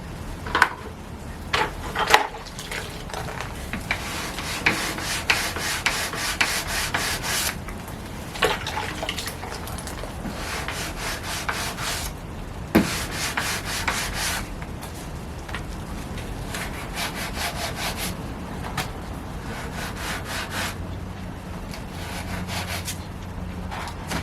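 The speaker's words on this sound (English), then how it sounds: "Now any sanding you do is going to be done wet." A rotted wooden window sash is sanded wet by hand, rhythmic bursts of rasping abrasive strokes repeating at close range, broken by short pauses and occasional knocks, with no speech.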